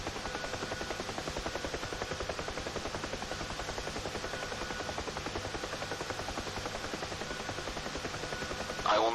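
A UH-1H Huey helicopter approaching to land in the DCS World flight simulator, the rotor's steady rhythmic thumping blade slap running continuously over a dense engine whine, loud and close, with a brief louder rattle at the very end.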